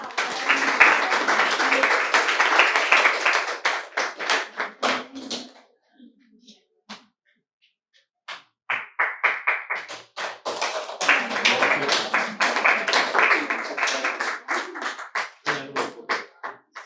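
An audience at an ashram felicitation ceremony claps in two bursts of brisk, fairly close applause, separated by a few seconds of near silence with scattered claps and light taps.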